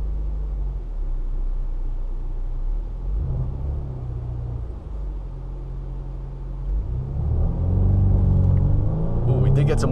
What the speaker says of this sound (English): Here, we can see if we make this have some launch control.